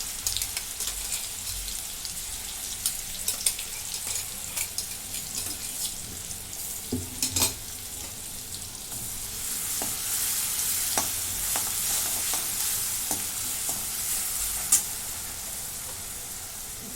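A paste of ground green chili and garlic goes into hot oil with cumin in a pan, a rushing close sizzle with scattered utensil taps and stirring, the hiss swelling louder in the second half.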